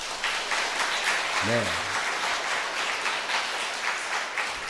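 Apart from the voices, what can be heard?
congregation applauding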